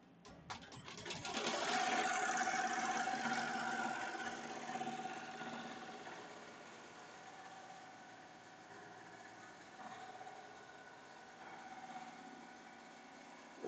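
A Melco Summit embroidery machine stitches a mug rug with a steady, fast mechanical hum and rattle. It swells early, then settles into a quieter, even running drone that continues throughout with no talking.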